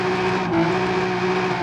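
A Ford F450 dually truck engine in Forza Horizon 5 drones steadily at a sustained tone, loud and continuous with no talking.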